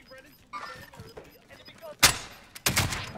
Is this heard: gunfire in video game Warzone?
yes